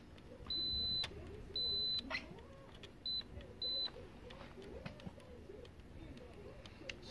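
A multimeter beeps during a diode test on the board of a Samsung UN55H6350AF TV that has no picture. Four short, clear electronic beeps sound over quiet room noise, with faint cooing birds in the background.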